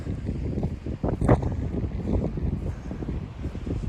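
Wind buffets the open summit of Saint Charles Peak, 11,788 ft, in the Sangre de Cristo Mountains, a steady close roar of rushing air and microphone gusts with one sharper surge.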